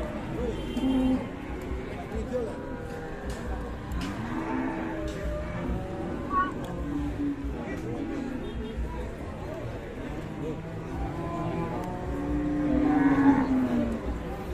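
Cattle at the Pasar Wage livestock market in Pati moo amid a busy crowd, low drawn-out calls rising in and out under steady chatter and market noise.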